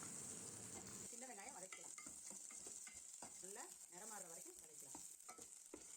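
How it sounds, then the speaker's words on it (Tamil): Steady hissing sizzle of shallots frying in hot oil, continuous throughout, with faint stirring and background voices underneath. "எண்ணெய் சூடான உடனே சின்ன வெங்காயம் சேர்த்துக்கலாம் சேர்த்து நல்லா பொன்னேரமாக வதக்கிக்கலாம்"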